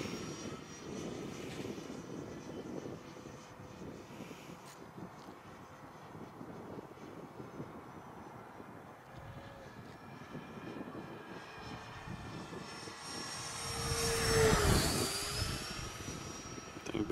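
E-flite Viper 70mm EDF model jet flying past outdoors, a distant whooshing ducted-fan roar that rises into a louder, swelling pass near the end, with no voices.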